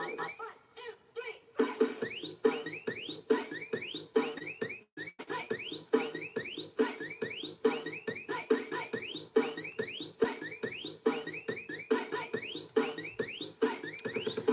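An electronic alarm rings on and on in repeated rising chirping bursts, a steady rhythmic pattern at moderate volume for the whole stretch.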